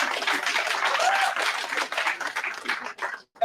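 Enthusiastic crowd applause at a storytelling gathering, a dense burst of clapping with some cheering that tapers off quickly to a few last claps.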